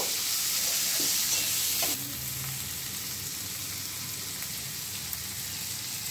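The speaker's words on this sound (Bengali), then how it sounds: "প্রথমে পেঁয়াজটা একটু ভেজে নেব।" Onions fry in a pan with a bright, steady sizzle close by, louder over the first two seconds while being stirred, then settling into an even crackling hiss.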